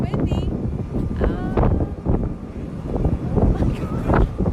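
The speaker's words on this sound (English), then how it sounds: "He said it's gonna be gusty because you can see it's very windy." Strong wind buffets and rumbles against the microphone in gusts, while people talk over the noise.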